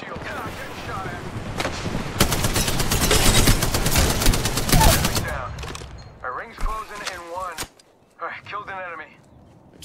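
Rapid bursts of gunfire fill an Apex Legends battle royale firefight, loud and dense for several seconds before thinning out, with a voice speaking over the later part.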